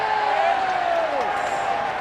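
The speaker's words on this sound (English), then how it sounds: "Crowd are cheering, flags are raised, and there it is" Rugby crowd cheering at half-time in a Rotherham versus Bristol match, a steady wash of distant stadium noise under a commentator's talking throughout.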